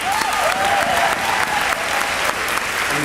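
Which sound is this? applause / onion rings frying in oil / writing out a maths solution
applause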